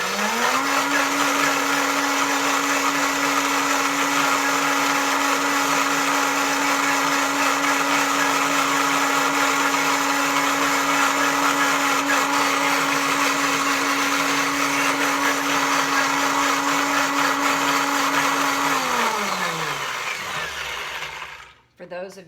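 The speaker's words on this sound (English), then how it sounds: "we're going to blend this really quickly to get the vanilla bean distributed" A Blendtec blender whirs steadily and loudly for about twenty seconds, blending maple syrup, applesauce and vanilla bean, then winds down and stops near the end.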